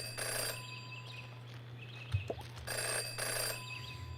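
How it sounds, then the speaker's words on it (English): A telephone rings in the video game Jenny LeClue Detectivu, two bursts of bright electronic ringing separated by a pause, with a soft thud in between over a quiet low hum. "Jenny had learned never to ignore a ringing phone."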